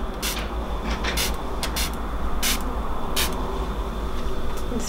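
An aerosol spray can fires several short, separate hissing bursts indoors, each one brief and sharp, over a steady loud background hum with no speech.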